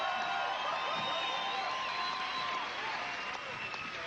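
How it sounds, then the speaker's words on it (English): Audience at a Comedy Store anniversary show applauding and cheering, a steady wash of clapping and crowd noise that holds throughout and eases slightly toward the end. "That was a very nice round of applause"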